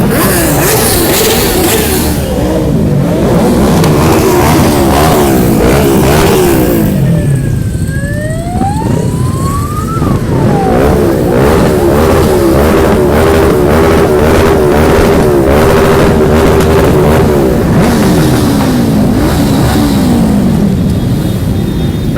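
Enduro race motorbikes, quads, scooters and sidecars on the Touquet beach course rev loudly and continuously, with engines rising and falling in pitch as machines pass close by, one climbing whine cutting through the steady roar.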